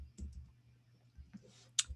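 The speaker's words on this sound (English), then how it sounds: "And I click enter" A few quiet clicks and taps from a computer keyboard as the enter key is pressed, sparse and close in an otherwise quiet room.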